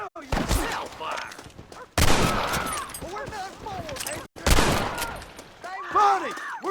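Volleys of gunfire in Red Dead Redemption, the Western game, crack in several loud bursts with brief gaps between them, while shouting voices and game dialogue run through the whole stretch.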